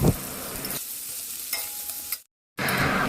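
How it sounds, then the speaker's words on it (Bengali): Chopped onions frying in hot oil in a wok, a soft continuous sizzle with brief stirring scrapes, cut by a short silent gap before the frying hiss returns. "এবার ওই তেলের মধ্যে আমি দিয়ে দিলাম পেঁয়াজ কুচি। পেঁয়াজটাও এবার লাল করে আমি ভাজা করে নেব।"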